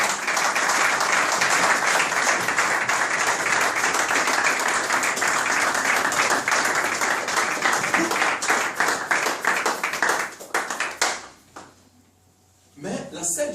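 A church congregation breaks into dense, sustained clapping that keeps going for about ten seconds, then thins out and fades, with voices mixed into the crowd noise.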